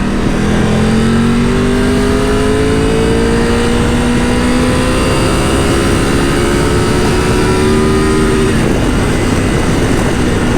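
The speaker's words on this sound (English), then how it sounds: "Let's see how quickly it accelerates." Triumph Tiger 1200 GT Explorer triple engine revving hard on its side stand, one long loud climb in pitch over about eight seconds before easing off, close and alone.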